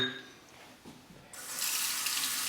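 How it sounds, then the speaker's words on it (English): Tap water runs into a sink during a face rinse while shaving: a quiet stretch, then a steady loud rush of flowing water starts and continues to the end, close by with no voices. "Just a quick face rinse."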